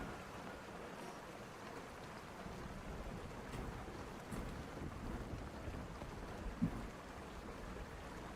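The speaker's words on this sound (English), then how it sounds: "Rain sounds." Soft, steady rain patter with a faint windy hiss, a continuous quiet wash of noise with no talking and one small tap near the end.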